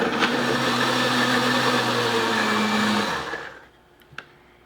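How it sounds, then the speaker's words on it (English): Blender whirring through a vanilla milkshake, a loud steady high-pitched motor drone for about three seconds before it winds down and stops, followed by a couple of faint clicks in near silence. "I just put this in my blender here"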